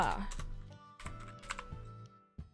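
Keys clatter in short irregular bursts on a computer keyboard during spreadsheet work, close and moderately loud, with brief pauses between flurries of taps.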